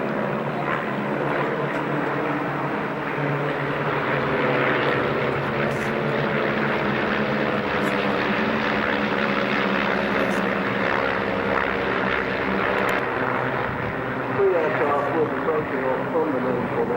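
Tiger Moth propeller biplanes flying in formation, making a continuous droning engine roar that holds steady for the whole stretch, with faint talk underneath.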